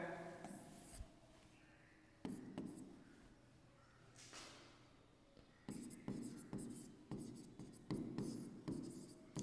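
Pen or chalk scratching out notes on a board or paper, a steady run of short strokes close by, alongside a soft voice speaking Hindi.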